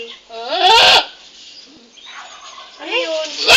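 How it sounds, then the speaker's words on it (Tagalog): A goat giving birth bleats in loud, strained cries, one burst near the start and another toward the end, with quieter rasping between; people's voices are faintly present. "Yung kambing yan."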